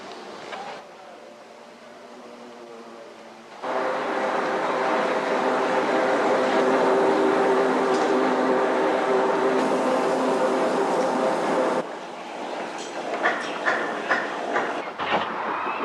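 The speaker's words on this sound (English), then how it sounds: "a final glimpse of the great Marquis as she pulls out of Bridgenorth on a return run" The preserved steam locomotive Marquis pulling out of Bridgnorth station on the Severn Valley Railway, a loud sustained rumble and hiss of the train with wheels clattering. It fades to lighter rattling clicks near the end, and no one speaks.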